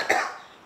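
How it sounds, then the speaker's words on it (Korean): A single short cough bursts out close and fairly loud, then trails off quickly into quiet. "기침이 너무 많이 나와가지고"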